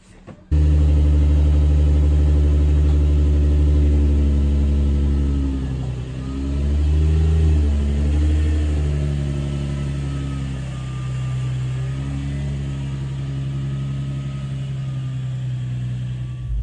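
A special car used for a confirmation drive runs with a loud, steady engine drone near the microphone, then revs up and down in surges midway before settling back to a sustained hum, no talk.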